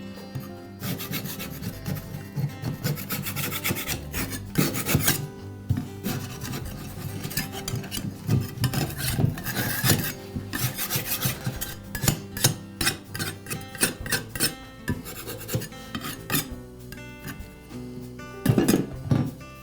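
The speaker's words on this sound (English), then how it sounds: "I'll start by cleaning the grass buildup off of the blade. I'll use a stiff scraper to do that." A stiff scraper works grass buildup off a lawn mower blade, giving a steady, close rasping scrape with repeated gritty strokes and occasional sharper metallic clicks, no voices.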